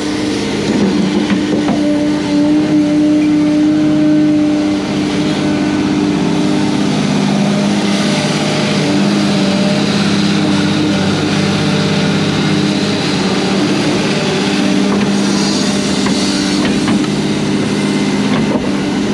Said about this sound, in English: Primary engine noise you hear on this machine, or the 210, is actually the fan.